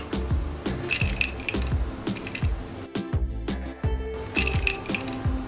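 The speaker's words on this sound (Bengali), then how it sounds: "দিচ্ছি বেশ কিছু বরফ।" Ice cubes drop one after another into a glass of lemon sherbet, giving a rapid run of bright, close clinks and knocks with brief pauses between bursts.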